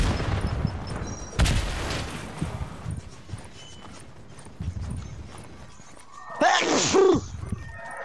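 A single sharp sneeze from a player bursts out near the end of a stretch of Fortnite gameplay, following scattered clattering and gunfire-like noises from the game.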